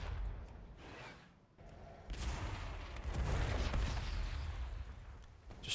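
Artillery strikes land in a World of Warcraft: Battle for Azeroth warfront, a run of heavy booms and whooshing blasts with a quieter gap early on, then building into dense, overlapping impacts toward the end.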